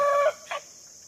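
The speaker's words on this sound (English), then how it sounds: "that was poor Fred trying to crow" A rooster named Fred attempts a crow, producing a short, strained, broken call that cuts off quickly, followed by a brief second squawk, close by and fairly loud with no talking.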